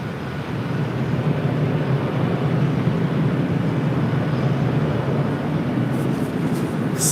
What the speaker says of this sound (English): It's Asiana, flight 204, coming in from Seoul in the 6-year-old A350-900.